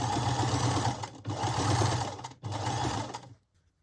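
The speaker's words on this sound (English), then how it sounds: "I've sewn the two edges on now" A sewing machine stitches a 1/4 inch seam along quilt fabric, running steadily in three close, loud bursts separated by brief pauses before stopping.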